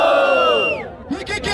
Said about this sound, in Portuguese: Quem curtiu a rima do Allen faz barulho, hein?